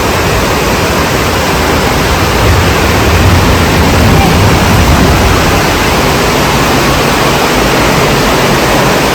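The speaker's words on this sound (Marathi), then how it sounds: "पाऊस एकदम जोराचा लागलेला आहे" Dense, steady roar of heavy rain pouring down without a break, loud and close, with no voices.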